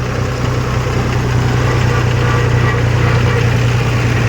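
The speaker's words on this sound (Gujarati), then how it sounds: "આ છે આપણો ટ્રેક્ટર" A tractor engine drones steadily up close, with a strong low hum and constant vibration and no break in the sound.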